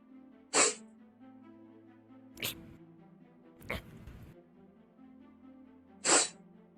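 Several sharp sneezes, about four, spaced a second or two apart over a quiet background hum; they are close and fairly loud.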